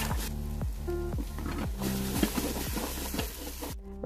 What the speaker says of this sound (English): add the mirepoix mix, and then stir constantly for 20 minutes